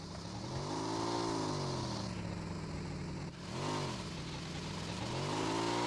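A motorcycle engine in the video game PUBG Mobile revs up and down in long sweeping waves, dipping briefly before climbing again, loud and steady throughout.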